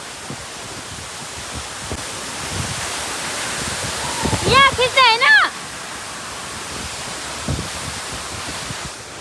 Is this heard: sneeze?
no